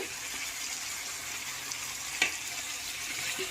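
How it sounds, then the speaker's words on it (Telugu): Vegetables with chili powder and curry leaves frying in hot oil for Nellore sambar give a steady, close broadband sizzle, with one sharp clink of a utensil partway through. "యాడ్ చేసుకొని ఈ విధంగా ఆయిల్లో ఫ్రై చేసుకోవాలి"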